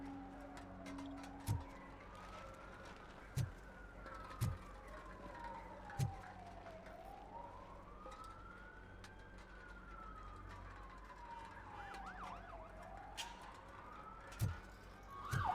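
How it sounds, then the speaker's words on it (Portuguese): Ambulance siren passing in the video game RoboCop: Rogue City, a slow rising-and-falling wail sweeping up and down repeatedly over street noise, moderately loud, punctuated by several sharp thumps. "A ambulância passando."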